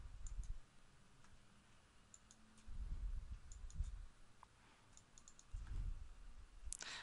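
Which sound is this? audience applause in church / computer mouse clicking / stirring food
computer mouse clicking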